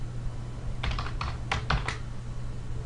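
Several quick keystrokes on a computer keyboard in a short burst, close and clear over a steady low electrical hum, with no voices.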